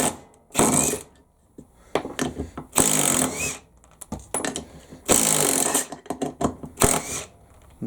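Makita and Bosch impact drivers take turns hammering lug nuts loose on a wheel, giving loud rattling bursts of rapid impacts separated by short pauses, close by with no talking.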